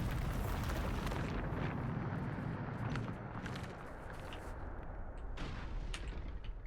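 A Bombarda spell blast in the Hogwarts Legacy video game erupts as a loud, sustained rumbling explosion, with crackling debris that fades slightly and then swells again, with no voices.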